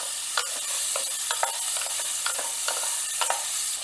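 Steamed green pigeon peas being mixed with peanuts and spices in a pot for a one-pot dhokli meal, a repeated rhythmic scraping of a spoon over a steady sizzle, close and with no talking.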